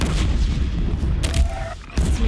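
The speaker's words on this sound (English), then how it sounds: "Let's launch some bombing." Repeated explosive booms from a bombing strike in the Horizon Zero Dawn video game, loud and dense low rumbles with sharper blasts near the start, middle and end, no voices.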